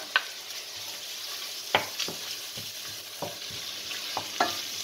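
Softened onions sizzle in a pan for a Thai curry as chilies, garlic, ginger and spices go in. A steady close fry is broken by several sharp stirring knocks and scrapes, with no voices.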